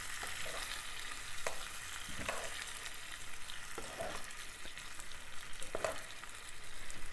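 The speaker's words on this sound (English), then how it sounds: "And I have my fork from when I was like stirring the noodles, and I'm just gonna use that to help mix everything in." A fork scrapes and stirs vegan pad thai noodles in a hot pan, with steady sizzling beneath and repeated clinking strokes against the pan surface, close and moderately loud, with no talking.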